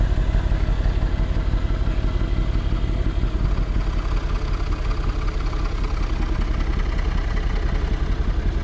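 A vehicle engine running steadily close by, a continuous rumbling idle with a clattering texture and no clear rise in revs, heard alone without talk.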